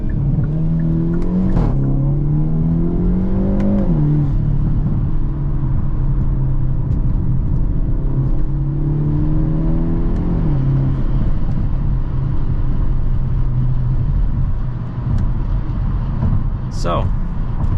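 A 2023 Hyundai Elantra N in N mode accelerates through the gears, its engine rising in pitch, dropping at each shift and climbing again, heard loudly from inside the cabin with a steady road roar underneath.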